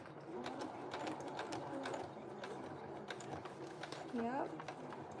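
A sewing machine back stitches through a bulky piece of fabric at night with a rapid, steady mechanical whirring. A pigeon coos briefly near the end.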